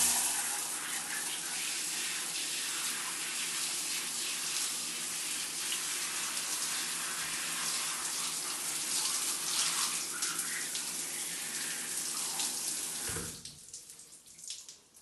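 Steady running water from a tap while conditioner is rinsed out of curly hair in a shower, a continuous close hiss that cuts off near the end, followed by a few faint handling sounds.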